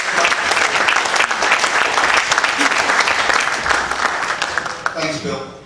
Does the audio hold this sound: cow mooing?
no